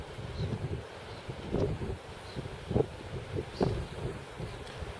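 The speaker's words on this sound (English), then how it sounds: "But hopefully this wind will stay the same most of the day." A strong offshore wind blows at Rest Bay surf beach, a faint, low, gusting rumble that rises and falls across the microphone.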